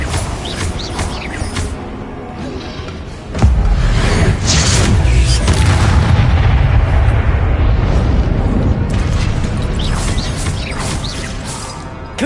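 Confringo spell explosions burst in Hogwarts Legacy, a sudden loud crashing blast followed by a long, heavy, rumbling roar of fiery debris, close and sustained over game ambience.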